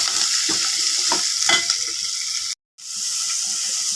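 Onions sizzle in a pan as a squid dish is cooked, a steady bright hiss with a few stirring scrapes, broken by a brief silent gap before the frying resumes.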